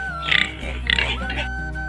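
Pigs eating feed grunt and oink in short bursts at close range, with a person talking over them.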